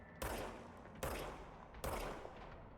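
Gunfire in the video game Control, three sharp, loud shots evenly spaced under a second apart, each with a reverberant tail that rings out before the next.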